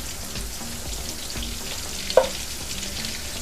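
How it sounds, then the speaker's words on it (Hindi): Chicken frying in melted butter and oil, a steady close sizzle with one sharp clink of a utensil partway through, no voices. "मक्खन थोड़ा सा पिघला के मुझे क्या करना है, चिकन को फ्राई करना है"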